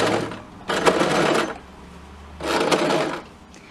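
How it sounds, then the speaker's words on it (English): A sewing machine fitted with an easy hemming foot stitches in two separate bursts of close, loud mechanical whirring, with quiet pauses before, between and after the runs. "then you're just sewing away as you were before when you did your first initial stitches"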